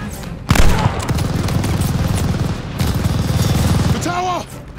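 Rapid automatic gunfire suppressing a machine gun in a tower in a WWII video game, dense rattling bursts sustained for seconds, loud and close, with a brief shouted voice near the end.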